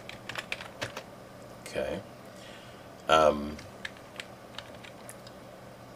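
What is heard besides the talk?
typing spaces on a computer keyboard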